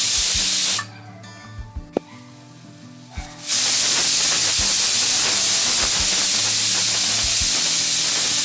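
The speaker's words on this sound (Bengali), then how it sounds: "স্টিমটা রিলিজ হওয়ার জন্য অপেক্ষা করতে হবে" Steam hisses loudly out of a pressure cooker after cooking chicken stew, a brief pause near the start, then a sustained, forceful hiss that continues to the end.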